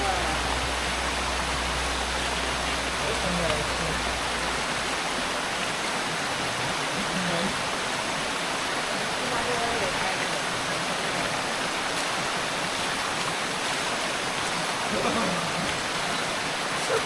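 Necklace waterfall at Bhandardara, a steady broadband rush of falling water that stays constant and fairly close throughout, with no voices over it.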